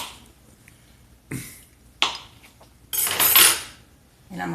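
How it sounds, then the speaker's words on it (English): A kitchen knife cuts butter into little chunks for a Thanksgiving turkey. A few separate sharp taps against a dish are followed by a longer scraping clatter, all close up with quiet gaps between them. "So just cut that in little chunks."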